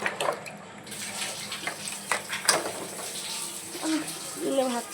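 Running tap water splashes into a kitchen sink while dishes are scrubbed by hand, with irregular clinks and sloshing close by and faint voices in the background.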